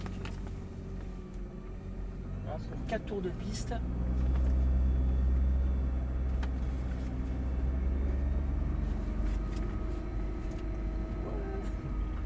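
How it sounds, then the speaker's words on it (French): A Nissan GT-R engine rumbles low and steady on a race circuit, swelling a little as the car pulls away slowly, with people talking over it. "quand tu vas lâcher les freins, la voiture va partir tout doucement sur les gaz"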